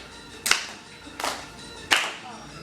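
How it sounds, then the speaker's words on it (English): Three sharp, separate claps ring out at uneven intervals during a classroom musical performance, fairly loud and close, with quiet between them. "Let's get a clap"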